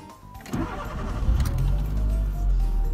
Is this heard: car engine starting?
yes